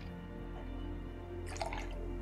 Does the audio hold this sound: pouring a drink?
yes